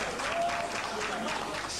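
Brief burst of audience applause at a political gathering, a crowd clapping steadily at moderate loudness for about two seconds with a voice faintly mixed in.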